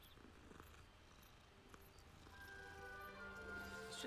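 A cat purrs while being petted in a Harry Potter video game, a faint, low, steady rumble that runs quietly throughout, joined by soft sustained musical tones in the second half.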